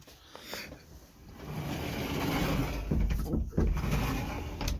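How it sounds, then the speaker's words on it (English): A large sliding bedroom door in a 2018 Winnebago Minnie Plus RV rolls shut, with a rising rumble and a firm thud near the end, close to the mic and under some background noise. "Door side's closed, just like that."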